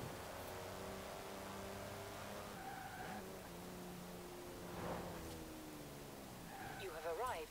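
An Eagle Speedster in the video game Forza Horizon 4 accelerating, its engine note climbing through gear changes with a brief tire squeal near the end, fairly quiet with a voice talking over it.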